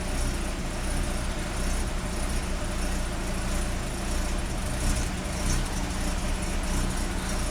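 A car engine with a charging fault idles steadily and loudly, running unevenly in a continuous droning rumble with no pauses.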